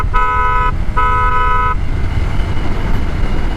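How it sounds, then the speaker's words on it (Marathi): Horn of a Hero Xpulse motorcycle, two loud bright blasts in quick succession, the first short and the second longer, over low engine and road rumble. "भाई हॉर्न असा पाहिजे भाई"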